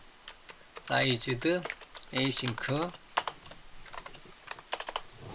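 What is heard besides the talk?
computer keyboard typing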